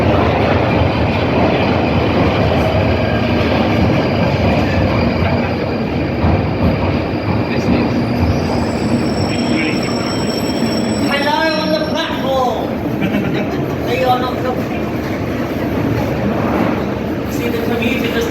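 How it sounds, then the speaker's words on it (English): A London Underground train rumbles past steadily below at Charing Cross station, loud low-end roar, wheels squealing and clattering midway, voices murmuring faintly beneath the din. "we can also look down on a train."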